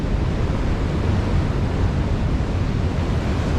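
Rough, agitated sea on New Year's Day, a continuous loud roar of crashing surf mixed with wind buffeting the microphone, with no talking.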